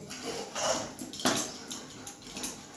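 A spoon whisks lemon-spiked batter in a bowl, quick light clinks and scrapes repeating close by over faint background hiss, with no voices.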